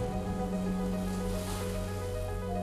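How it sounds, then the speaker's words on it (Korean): Sea waves crashing against a rocky shoreline on a fishing island, a loud, continuous roar of surf and spray filling the whole moment with no voices. "파도가 먼저 반겨준다."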